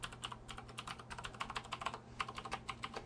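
A password is being entered on a computer keyboard during a Linux Mint 15 MATE install, quick irregular key clicks in short bursts, quiet and close over a low steady hum, no speech.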